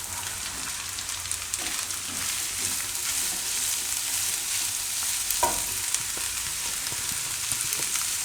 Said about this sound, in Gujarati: થોડીક વાર ડુંગળીને આમાં પાકવા દેશું વચ્ચે વચ્ચે હલાવતા રહેવું